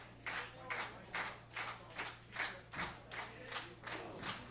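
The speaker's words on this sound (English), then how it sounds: "Crowd trying to rally Twitch now." A wrestling crowd at the Summer Splashdown show claps in a steady rhythmic beat to rally a wrestler, about ten evenly spaced claps heard from a distance over a low constant hum.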